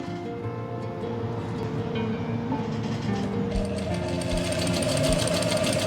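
A sewing machine runs steadily while stitching a seam on a kurti, making a continuous close mechanical whir that grows slightly busier partway through, with no speech.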